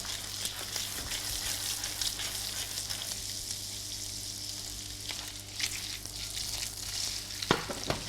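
Prawns sizzle and crackle in a hot pan with a squeeze of lemon, a continuous close frying hiss with occasional tossing clatter.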